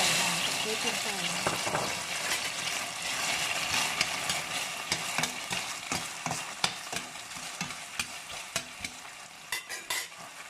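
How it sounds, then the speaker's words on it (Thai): Shallots and pepper stir-fry in hot oil over medium heat, a loud, dense sizzle right up close, broken by quick scraping and clicking of a utensil against the pan throughout. "น้ำมันของเราเดือดแล้วนะคะ"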